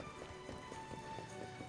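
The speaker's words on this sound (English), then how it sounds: "It seems like it's just people walking around with their horses." Horses' hooves clip-clop steadily in the Dragon Quest 11 video game, a light rhythmic patter of soft repeated knocks over a constant game background hum.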